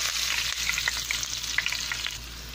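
Finely chopped onions frying in hot oil with popped mustard seeds in a pan, a loud, continuous sizzle with stirring scrapes across the short stretch, alone and close.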